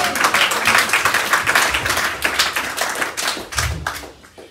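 A church congregation claps in lively applause, a dense run of handclaps that fades toward the end, fairly close and with no talking over it.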